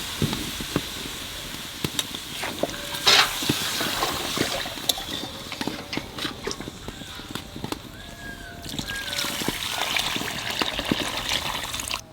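Water pours and gushes into a pot of simmering village-style chicken curry, a steady splashing flow that continues throughout, close and fairly loud, with scattered clinks and no talking.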